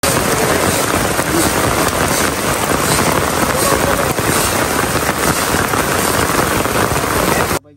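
Heavy rain pours down steadily outdoors, where a cow is being butchered, a dense, loud, unbroken hiss that cuts off at the end.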